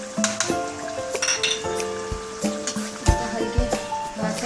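Chicken karahi with turmeric, crushed chillies, black pepper and salt sizzles steadily in a pan while a spoon stirs it gently, with repeated sharp metallic clinks and scrapes against the pan over the constant frying hiss.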